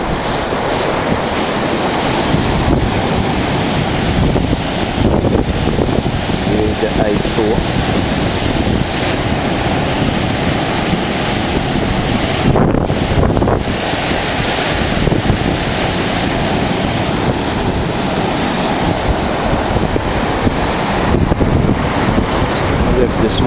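Rough sea surf crashing along a bay road by stonework the day after Hurricane Maria, loud and continuous, with strong wind buffeting the microphone throughout.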